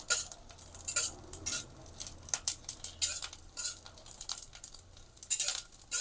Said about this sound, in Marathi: फुलेपर्यंत मस्तपैकी तो तळून घ्यायचा हा डिंक